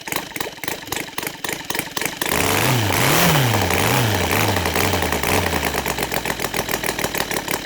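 A Saito 450 model airplane engine converted to gasoline with CH ignition runs loud and close, rising from a rough low idle into a sustained high drone with wavering pitch as it revs.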